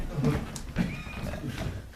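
A person imitates a horse's neigh with a short whinnying voice, close and fairly loud, amid an improv theatre scene with other voices.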